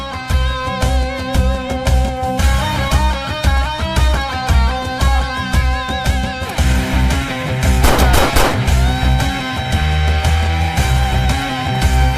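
Rapid bursts of gunfire crackle over a dramatic musical score, with a dense stretch of quick shots in the middle and the music continuing loudly around it.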